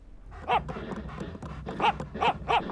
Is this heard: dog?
yes